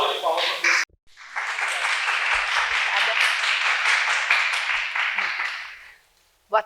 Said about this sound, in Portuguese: E já uma salva de palmas para você.